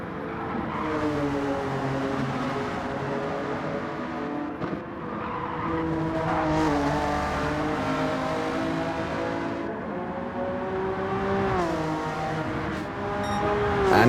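A BTCC replica race car in Gran Turismo 7 laps a track, its onboard engine howling steadily and loudly, pitch rising and falling through gear changes and corners with no break.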